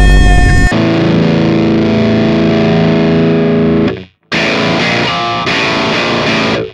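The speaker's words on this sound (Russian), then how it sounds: "насколько резкий у нас звук самой грелки" Electric guitar played through a Hotone Ampero II Stomp multi-effects unit with a harsh distortion setting, loud sustained fuzzy chords ringing out, a short silence, then another distorted chord that rings on.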